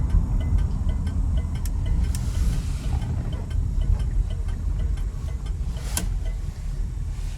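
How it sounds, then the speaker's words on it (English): Steady rapid ticking of the turn signal inside a 1973 Chevrolet, heard close over a low engine idle with no talking. "Listen to that signal click."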